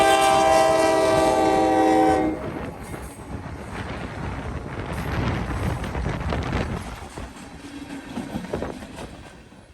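Diesel freight trains with GE locomotives, including a Canadian Pacific unit, sound a loud horn for about two seconds, then rumble and clatter steadily past while wind gusts over the microphone.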